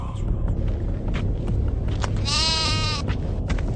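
A sheep bleats in a film scene, a wavering harmonic cry lasting under a second amid a steady low rumble of background noise.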